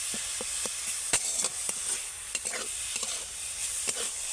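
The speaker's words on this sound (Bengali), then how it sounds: "গুড়ের সাথে নারকেলটাকে খুব ভালো করে এইভাবে মিশিয়ে নেব।" Date palm jaggery and grated coconut being stirred together in a pan for pitha filling, with a soft steady sizzle and repeated scraping strokes of the spoon at close range, no voices.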